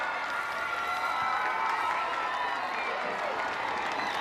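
A large crowd outside the Welsh Parliament in sunshine applauds and cheers steadily as the royal car departs, a dense continuous roar of clapping with voices mixed in.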